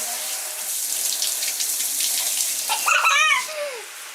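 Water spraying from a high-pressure 360-degree rotating hand shower head with a small fan, a steady close hiss of running water that swells near the end, then a brief squeaky tap turning off.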